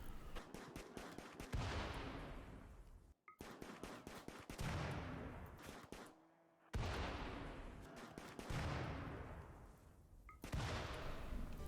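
A RimWorld colonist fires on a herd of boomalopes, with repeated rapid bursts of gunfire in several volleys separated by short pauses, each burst loud and sharp.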